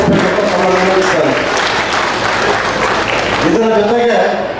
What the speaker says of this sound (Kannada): ಜೋರಾದ ಚಪ್ಪಾಳೆಯನ್ನು ಅವರಿಗೆ ಗೌರವಿಸಬೇಕು